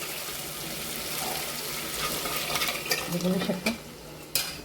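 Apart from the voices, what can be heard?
pouring mashed dal into tempering and stirring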